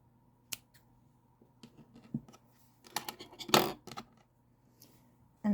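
Scissors snipping yarn during crochet work, a few sharp, close clicks and snips spaced irregularly, with one louder cluster of snipping near the middle and quiet gaps between, with no talking.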